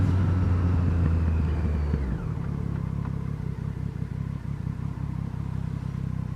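A street motorcycle rides along at low revs, its engine a loud, steady low rumble with a slight drop in pitch partway through, heard close up with no talk.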